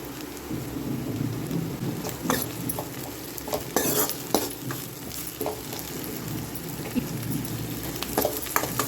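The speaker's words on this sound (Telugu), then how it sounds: "ఇలా బాగా కలుపుకోవాలి." Spoon scraping and stirring through Andhra-style country chicken curry masala with curry leaves and chillies, a steady sizzling fry bed with irregular clinks and scrapes close by, no talking.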